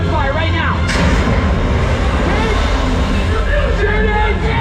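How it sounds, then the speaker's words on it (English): Gunfire during the WaterWorld stunt show, with sharp bursts and booms over a noisy crowd and shouting voices, loud and echoing in an open outdoor arena. "I need gunfire right now."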